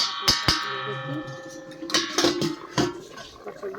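Metal lid clanked onto a pot of matar paneer with water, two sharp ringing hits followed by softer metallic clatters and rattles as it settles.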